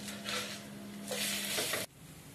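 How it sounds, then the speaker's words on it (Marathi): Poha uttapam being stir-fried in a pan gives a steady, close sizzle with scraping stirring strokes that swell midway, then the sizzling drops abruptly to a faint hiss near the end. "आता हे झालेले आता मी परतून घेते यांना."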